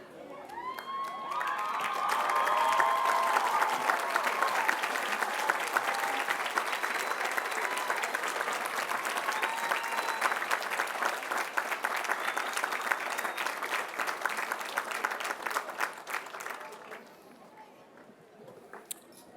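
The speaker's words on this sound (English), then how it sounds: "How about you guys stand up, turn around, and applaud them?" Sustained applause with cheering and whoops from a large crowd at a community college's 50th annual commencement, building quickly and holding loud for most of the stretch before fading to scattered claps.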